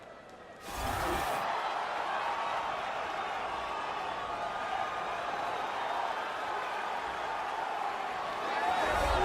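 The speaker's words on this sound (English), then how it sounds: "what a pop from the crowd as this guy makes the walk" Roaring crowd noise from an arena in the UFC 3 video game as a light heavyweight fighter makes his walkout, a broad steady swell of cheering that jumps up after a brief quieter start and holds loud throughout.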